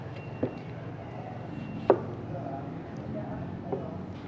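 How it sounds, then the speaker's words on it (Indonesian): A knife chops lemon and celery leaves for a garnish, giving three sharp, separate cuts against a board, the middle one loudest, over a quiet background hum. "Kita bikin garnish hanya memotong lemon dan daun seledri."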